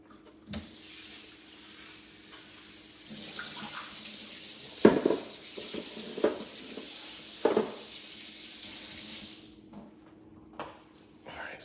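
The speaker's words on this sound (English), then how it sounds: "Strain those water off." Water is poured off boiled broccolini from a pot in a home kitchen, a continuous close splashing rush with a few clanks of the pot, and then it quiets.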